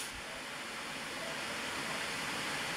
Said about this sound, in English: dark noise,